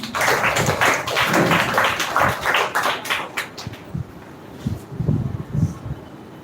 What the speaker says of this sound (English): Clap for Mr. Aman